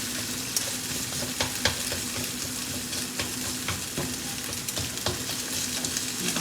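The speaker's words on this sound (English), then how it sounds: "Move that out the way and make sure that I fry everything properly." A broken-up egg sizzles steadily in a hot frying pan while a utensil stirs and scrapes it around with frequent light clicks, close and continuous.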